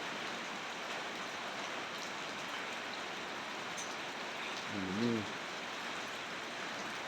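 Rain falling at night, a steady even hiss of drops on surfaces filling the whole stretch, with one brief faint tonal sound partway through.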